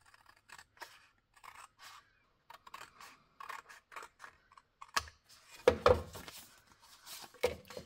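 Scissors snip through paper close up in short, quiet cuts with gaps between them, growing a little louder and denser toward the end.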